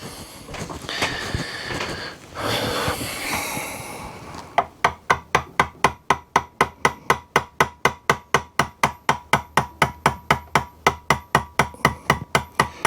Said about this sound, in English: And I'm just gently tapping.